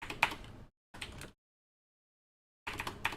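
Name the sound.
typing on a computer keyboard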